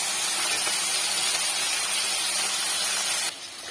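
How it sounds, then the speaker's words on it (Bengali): Tangra fish frying in a pan with very little oil makes a continuous close hiss and sizzle that holds steady, then drops off abruptly near the end. "মাছটা ভাজা হোক।"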